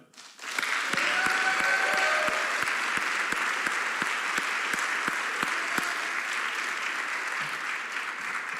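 An audience at an award ceremony applauds a recipient with steady, dense clapping that starts suddenly, holds for several seconds and then thins slowly, with a few sharp individual claps standing out.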